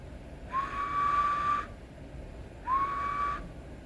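A person whistles into a compact radio's microphone, two steady, sustained notes, each rising briefly then holding for about a second, separated by a short pause over faint static hiss.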